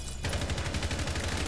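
Rapid gunfire in Rainbow Six Siege as shots are fired through a wall, a dense, fast, even burst that begins abruptly and fills the whole short stretch at close range.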